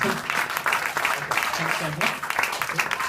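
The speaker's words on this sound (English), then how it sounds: "Round of applause as she cut it from there" Audience applause at a comedy course as a volunteer cuts with scissors during a trick, a dense burst of clapping running throughout with voices mixed in.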